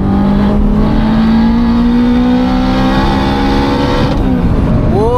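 A 500 bhp big-turbo Honda Civic Type R pulls hard under acceleration, its tone climbing steadily through one long gear before a shift near the end, loud and close.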